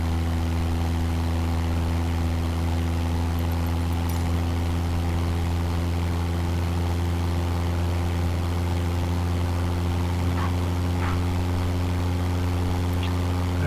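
Propeller aircraft engine from a flight simulator game drones steadily and evenly throughout, a strong low hum with harmonic layers and no talk over it.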